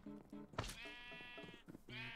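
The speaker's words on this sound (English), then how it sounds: "These sheep are dumb." Sheep bleat in Minecraft, several wavering, nasal calls in quick succession with a couple of soft thuds between, fairly quiet and close.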